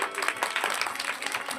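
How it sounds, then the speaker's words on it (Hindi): Applause for the school staff at a primary school gathering, a crowd clapping steadily and fairly loudly throughout, many hands overlapping in a dense, continuous patter. "तो चाहता हूँ यहाँ के स्टाफ के लिए एक बार जोरदार ताली।"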